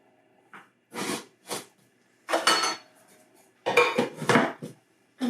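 Two teaspoons of sugar go into a homemade ginger ale starter jar, with several short bursts of spoon clinking and scraping against the jar between quiet pauses.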